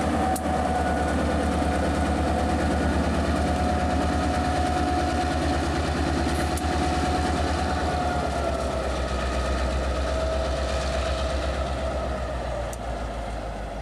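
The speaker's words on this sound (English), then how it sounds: "Engine 5290, Operation Leipzig, Conrad. Now operating on the Norfolk Southern." A Norfolk Southern locomotive, engine 5290, rumbling steadily with a deep continuous engine drone and rolling rail noise, loud and close throughout, with a couple of faint clanks and no talking.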